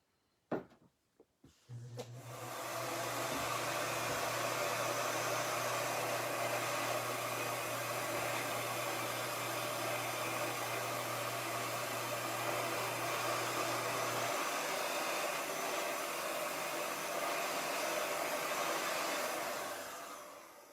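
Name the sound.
blower heating and drying a pottery piece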